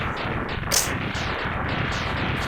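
A boss blowing apart in Mega Man X3, a continuous crackling barrage of small retro game explosions with one brighter burst early, steady and fairly loud with no voice over it.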